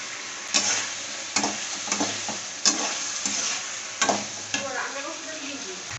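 Fried spices and bori being stir-fried in a pan for a lentil curry with drumsticks and spinach, a close sizzle punctuated by about half a dozen sharp scraping strokes of a spatula, with no talking.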